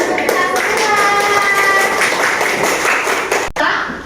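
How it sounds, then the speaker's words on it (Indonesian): Children in a classroom clap their hands together, sharp close claps with a few voices and chuckles mixed in, ending with a sudden stop. "Oke, tepuk tangan."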